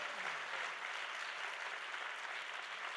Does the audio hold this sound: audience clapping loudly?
yes